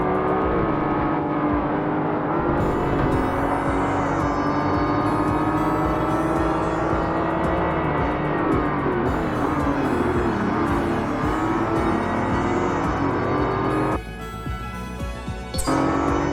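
Ferrari race car engine in Forza Motorsport (2005), loud and sustained, revving through gear changes with shifting pitch, briefly dropping and cutting out near the end before picking up again.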